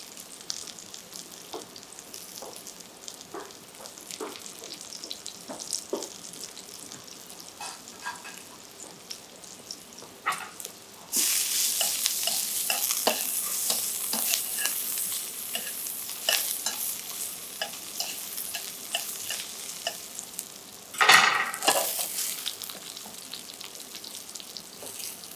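Turnips fry in a pan over medium-high heat, giving a steady sizzle that grows louder partway through, with small clinks and stirring sounds and a brief louder scrape near the end.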